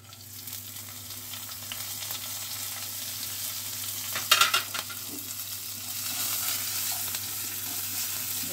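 Whole cumin, fennel, kasuri methi, ginger, coriander and nuts fry in hot oil with a steady close sizzle, a brief burst of scraping or clatter midway as they are stirred, the crackle swelling slightly toward the end.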